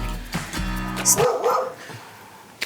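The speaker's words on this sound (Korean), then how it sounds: "어디서 이렇게 계속 개가 짖냐?" A dog barks a few times nearby, short sharp yaps mixed with a brief whine, over a low background hum.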